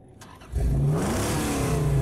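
A car engine in the Mad Max video game revs up after a short quiet lead-in, holding a loud, steady mid-pitched roar with a rising tone as it accelerates.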